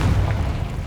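A Confringo blasting spell detonates in the video game Hogwarts Legacy as a single deep, rumbling boom, loud and heavy in the low end and fading over about a second.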